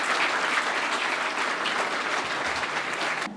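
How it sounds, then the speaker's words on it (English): Audience at the Liberian Development Awards 2017 gives a steady, loud round of applause for award nominees, sustained dense clapping throughout before tapering at the end. "give all of our nominees, all 15 of them, a big round of applause"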